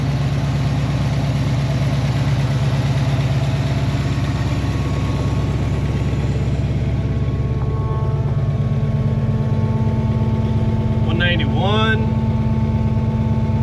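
A Foxbody Mustang idles steadily nearby, a constant low engine drone with a faint whine, while someone talks over it throughout.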